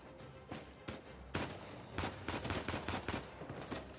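Rapid bursts of gunfire from the video game Uncharted 4 crackle in dense, uneven volleys, loud and close, with no talking over them.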